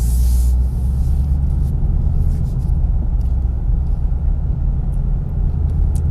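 A 2015 Ford Mustang GT automatic, heard from inside while driving: a steady low engine and road rumble runs throughout at an even level, with no talking.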